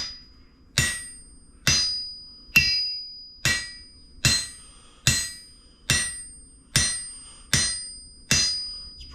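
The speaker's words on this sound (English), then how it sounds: "Everyone talks about how an anvil should ring," A hammer strikes a shop anvil about once a second, ten evenly spaced sharp blows, each leaving a bright metallic ring that decays before the next hit.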